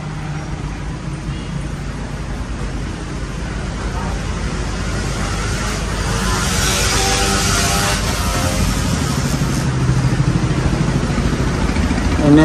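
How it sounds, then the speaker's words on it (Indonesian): Motorcycles and traffic rumbling along a street in Makassar during light drizzle, a continuous loud engine drone that swells slightly as bikes pass, with rain hiss mixed in. "Ini motor pada balap ini karena sudah gerimis"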